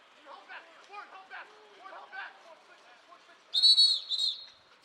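A referee's sharp whistle blasts twice at a water polo match, loud and shrill after several seconds of commentator talk.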